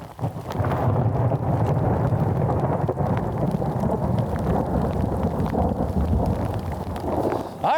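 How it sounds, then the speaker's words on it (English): Heavy thunderstorm with steady rain on a mountain in Rwanda, a loud continuous roar of rainfall and rumbling thunder, with wind buffeting the microphone throughout. "The storm is right on top of us."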